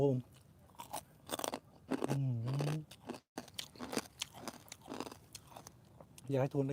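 Hard, crispy food is crunched and chewed close to the mic in a run of bitten crunches. Someone talks over and between the bites.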